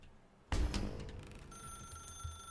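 A telephone in the video game The Stanley Parable bursts into ringing after a short quiet moment, a loud metallic bell that keeps going with steady ringing tones to the end.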